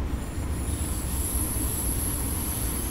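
A Baureihe 423 commuter train runs in Railworks Train Simulator, with a steady rolling rumble and a sustained high-pitched wheel squeal throughout, no voices.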